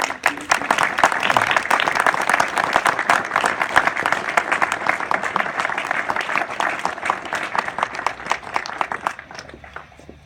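A crowd at a school ribbon-cutting ceremony for a new lower school building claps in a long, dense round of applause with sharp individual claps standing out, tapering off near the end.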